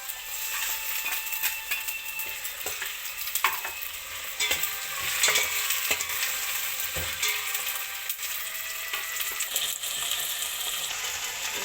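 Soya chunks frying with ginger garlic paste in a pan: a continuous close sizzle with frequent scraping and clinking stirs of a spoon against metal, no voices.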